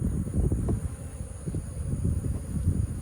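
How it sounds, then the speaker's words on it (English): Robber bees swarm around a hive, making a dense, continuous low buzz that swells and dips as many insects pass near the microphone, with a little wind rumble underneath. "These are robber bees."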